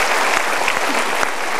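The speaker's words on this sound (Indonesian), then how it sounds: "Kita berikan tepuk tangan dulu." A studio audience on a talk show bursts into brief, loud, dense applause, a steady wash of clapping with no talking over it.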